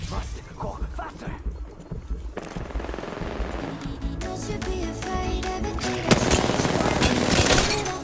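Gunfire rattles in the video game Apex Legends in repeated mid-distance bursts over a busy battle mix, growing denser and louder toward the end, with players talking over it.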